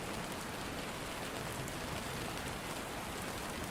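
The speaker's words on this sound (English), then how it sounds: "listen to the gentle sound of the rain" Steady, gentle rain falls evenly throughout, a soft continuous hiss of drops on surfaces with no voices.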